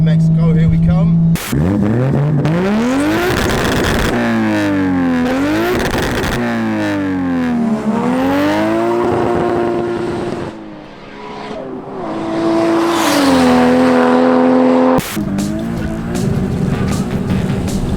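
A big single-turbo 1JZ Toyota Mark 2 JZX100 pulls hard, its engine note climbing steeply through repeated gear changes, each shift dropping the pitch before it rises again, loud and close with a brief lift midway.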